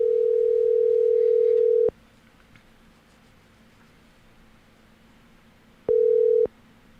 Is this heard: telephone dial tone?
yes